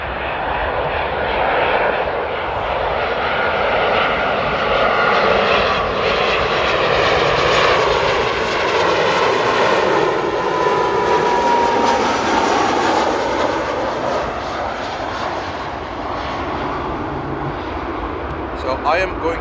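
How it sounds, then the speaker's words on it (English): A fixed-wing airplane passes overhead while landing at Amsterdam airport, its engine roar loud and steady for the whole stretch and swelling slightly in the middle as it goes by. Faint voices are mixed in. "I just monitored the sound when the plane flew by"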